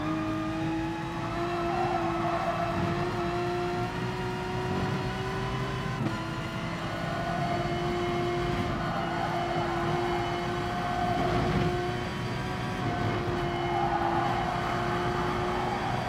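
A Porsche race car in GT Sport droning at high revs through a steady, sustained engine whine that shifts pitch slightly as it changes gear and corners, loud and continuous with no talk.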